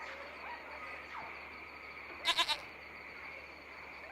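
A goat in a video game gives a short, quick triple bleat over a quiet ambient background, clear but not very loud, with nothing else happening around it.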